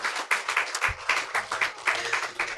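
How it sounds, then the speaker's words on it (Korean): A church congregation applauds during a baptism service in uneven, pulsing waves of clapping, with faint low murmurs mixed in. "뜨거운 박수로 감사합니다."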